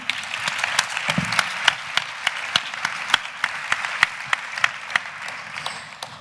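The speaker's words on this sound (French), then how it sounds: "Merci beaucoup Alexandre, on l'applaudit." An audience in a lecture amphitheatre applauds a student speaker, dense steady clapping with distinct sharp claps standing out, fading slightly at the end.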